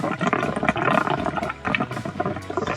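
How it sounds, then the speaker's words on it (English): Water gushes and splashes steadily into a camper van's water tank, filling it with a loud, turbulent rush that continues without pause and with no voices. "run back and forth while it's filling so I don't overflow the water tank"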